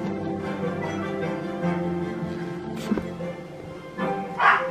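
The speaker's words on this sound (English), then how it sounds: "Mom's home, that's why she's barking." A dog barks a few times indoors, the barks faint and mixed into steady background sound from a television or similar source.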